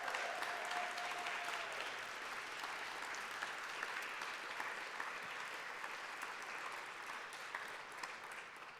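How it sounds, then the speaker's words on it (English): A breakfast event audience applauds after an inspiring performance, a steady wash of clapping that stays even for the whole stretch, heard at a moderate distance. "Let's give another round of applause for that inspiring performance."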